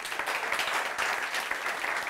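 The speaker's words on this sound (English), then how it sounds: "Another round of applause." An event audience applauds in a steady wash of clapping, moderately loud and continuous for a couple of seconds, no talk over it.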